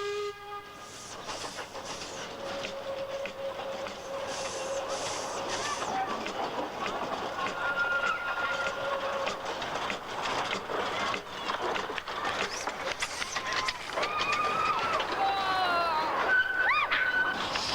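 A steam train chugs steadily along near Alexandra, Victoria, with rumbling wheels and clatter, a whistle sounding near the end; faint voices are audible in the background.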